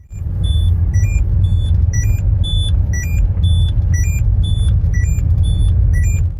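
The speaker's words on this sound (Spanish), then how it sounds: "si sigues conduciendo aún más tiempo sin el cinturón, el pitido se vuelve todavía más fuerte" A Citroën's seatbelt warning chime beeps in a steady, evenly spaced rhythm over a loud, constant engine rumble inside the car.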